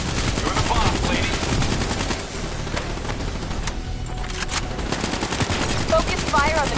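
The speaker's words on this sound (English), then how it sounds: "Focus fire on the cooling rods in the towers surrounding Diaz" Dense, sustained automatic gunfire from the video game Call of Duty Black Ops 3 rattles loudly and continuously throughout, with layered bursts and sharp crackles under busy battle noise.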